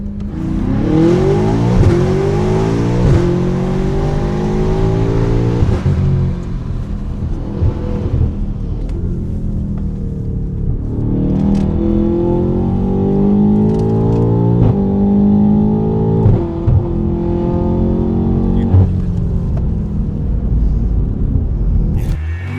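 A car engine revs and accelerates through repeated gear changes, the pitch climbing and dropping in loud, close waves, with a steady road rumble underneath.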